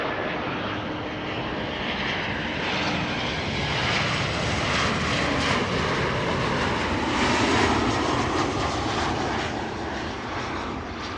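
A KLM Boeing 777 jet airliner lands on a runway, heard from a distance as a broad, steady roar of jet engines that swells slightly and then eases over about eleven seconds, with no voices.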